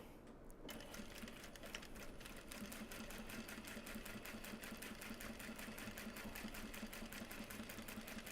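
A sewing machine runs steadily, stitching a seam in fabric for a bag, with a fast, even mechanical chatter that continues for several seconds without talk.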